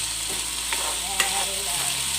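Potatoes fry and get stirred in a pan over a high flame, giving a steady close sizzle with scraping stir strokes and one sharp clack partway through.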